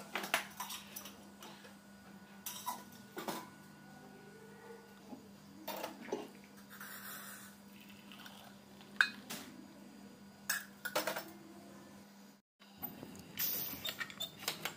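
Kitchen utensils clink and tap now and then in a home kitchen while tea is being made. The knocks are light and scattered over a quiet background hum, with no talking.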